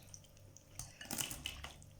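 Salted fish gently stirred in a dish with a little poured liquid, making soft clinks of utensil on dishware and faint wet sounds, quiet and close.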